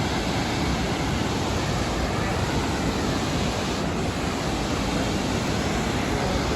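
Varchal waterfall roars steadily amid forest greenery, a dense, unbroken wash of rushing water that stays loud and constant throughout, with no voices.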